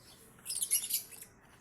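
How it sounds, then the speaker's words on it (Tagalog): Brief burst of high, thin bird chirps at a relative's place, faint and distant, lasting about a second over quiet background. "Ayan mga ibon."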